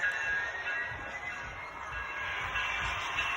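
A long intermodal freight train rolls along in a railroad simulation game, giving a steady mid-level rumble with a faint high whine, continuous and unbroken throughout.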